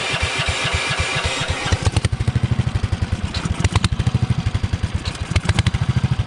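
A Honda engine with a big cam runs with a loping, rhythmic idle, near and loud, steady pulses that quicken slightly as it revs, alone without talk.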